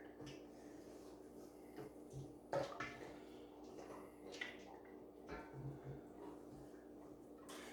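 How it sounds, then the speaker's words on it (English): Hands squeeze and squish butter clumps in a bowl of water, wringing out buttermilk, with quiet intermittent sloshing, squelching and small splashes close by. "take all the clumps of butter and squish them together and try and wring all the buttermilk out of them into the water"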